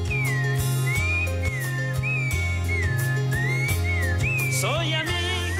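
A thrush (zorzal) sings in clear whistled phrases, a steady run of sliding notes over a loud, rhythmic music backing, ending in a brief burst of higher warbles.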